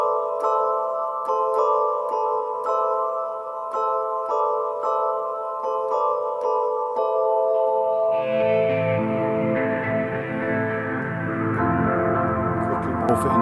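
A Korg Wavestate synthesizer plays a steady harmonic patch that morphs midway into a thicker, noisier, swirling synth texture, loud and continuous with no talk.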